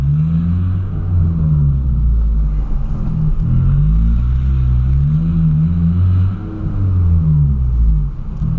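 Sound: Volkswagen Gol car engine revving with exhaust

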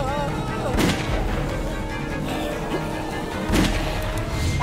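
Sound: gunfire in The Walking Dead video game

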